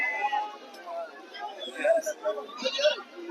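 Goats bleating at a village livestock market in Nallapadu, several short close cries breaking through a murmur of people talking.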